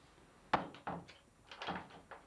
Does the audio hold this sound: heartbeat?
no